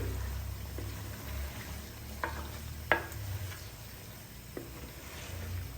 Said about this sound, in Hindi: आलू डालकर तो पहले आलू को हम हल्का सा भून लेंगे।